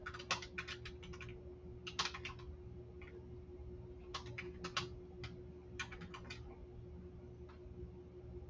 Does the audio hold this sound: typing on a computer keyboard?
yes